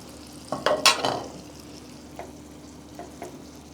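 Pork or beef intestines stirred in a pan with water, salt and broth powder, giving a few clattering scrapes followed by gentle intermittent stirring over a low simmer, with no talking.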